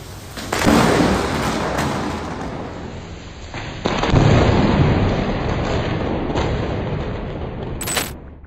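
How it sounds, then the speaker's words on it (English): Thunder from close-range lightning strikes during a storm in Cancun, two loud cracking crashes that each roll on into a long rumble, with rain hissing underneath. "Close-range lightning strikes and storms hit Cancun."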